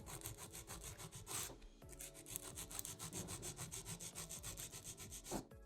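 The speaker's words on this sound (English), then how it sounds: "My first step in filing is straight out from the nail groove on the left." A nail file rasps against a fingernail in fast, even back-and-forth strokes, a steady rhythmic scratching heard up close with one brief pause and no talk.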